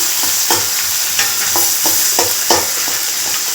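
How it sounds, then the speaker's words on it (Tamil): Onions sauté with salt in a pan, a steady sizzle punctuated by regular scraping strokes of a spatula stirring them, close and fairly loud with no speech. "வெங்காயம் வதங்கிறதுக்காக உப்பு போட்டிருக்கேன் நல்லா வதக்கணும் வதக்கிக்கிட்டே இருப்போம்"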